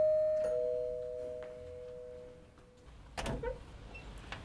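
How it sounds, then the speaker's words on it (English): A single electronic doorbell chime rings out and slowly fades, followed by a brief clunk and faint rustling. "I ring the doorbell"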